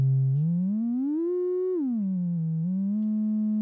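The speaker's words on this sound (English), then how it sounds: "So here we have a sinusoidal waveform like this." Steady sine tone from a Eurorack modular synthesizer oscillator, its pitch sliding upward, holding, then dropping and settling, heard alone and clearly with no talking.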